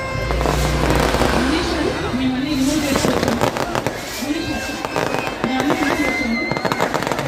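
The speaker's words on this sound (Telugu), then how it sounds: "అంతా కూడా ఇక్కడ బాణసంచ స్టార్ట్ అయిపోయింది మనకి" Fireworks and firecrackers pop and crackle without pause at a Sankranti celebration in Amalapuram, Konaseema, dense and loud. Someone talks over the bangs throughout.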